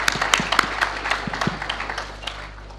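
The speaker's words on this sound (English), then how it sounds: "please give another big round of applause to Professor Kroto" Scattered claps from a university lecture audience for Professor Kroto at Naresuan University in Bangkok, sparse and uneven, thinning out and fading over a few seconds.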